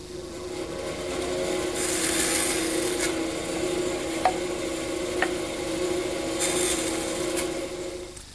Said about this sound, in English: Now it's to the bandsaw for the edges.